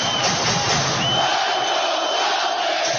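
Some 20,000 basketball fans at a Celtics home game roar continuously during a fourth-quarter possession, a dense, loud, sustained wall of cheering with no pauses.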